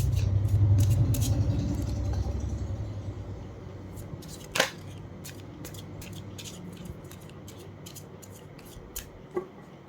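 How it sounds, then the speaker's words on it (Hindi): Tarot cards handled at close range: a soft rumbling shuffle at first, then a quiet stretch broken by scattered papery flicks and a few sharp snaps as cards are drawn and laid down, with no talking. "मैं कुछ कार्ड्स और निकाल"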